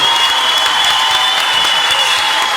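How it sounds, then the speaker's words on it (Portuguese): A studio audience at a Brazilian talk show applauds steadily, a dense, loud wash of clapping that holds evenly throughout with no voices over it. "Vamos aplaudir!"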